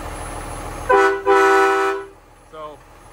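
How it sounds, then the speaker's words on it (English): Train horns fitted to a blacked-out Peterbilt 389 truck blast two loud, close tonal honks, then a shorter, quieter toot after a brief pause. "And it's got train horns."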